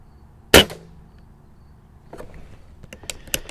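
A Diana Bandit air pistol fires a single sharp, loud shot, followed by quieter clicks and handling noises.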